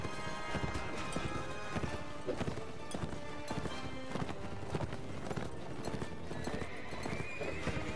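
A horse in Mount & Blade: Warband gallops with steady, dense clip-clop hoofbeats and a neigh amid loud battle clatter, continuous and close throughout.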